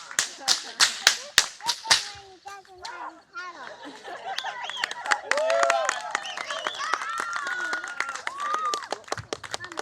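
Audience at an outdoor whip-cracking show in Mataranka clapping in a quick burst of sharp, close claps, then fading as someone talks over scattered murmurs and laughter.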